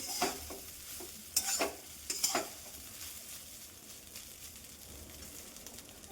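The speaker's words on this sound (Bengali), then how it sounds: "এই যে আমার ভাত ভাজা রেডি হয়ে গেছে" Egg fried rice with chili is stirred in a pan: a few sharp spatula scrapes stand out over a soft, steady sizzle at low volume.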